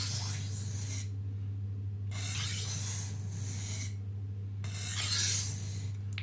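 Dull knife sharpened by hand on a wet grindstone, with three bursts of gritty rasping strokes separated by pauses, close and steady over a constant low motor hum.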